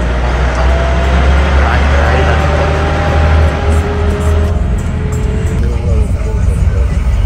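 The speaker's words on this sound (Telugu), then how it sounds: "బండి అయితే చాలా స్లోగా వెళ్తుంది" A vehicle crawls slowly off-road over a badly broken track at night in Tanzania, its engine a steady low rumble with rattling and bumping throughout, close and continuous, with occasional faint voices mixed in.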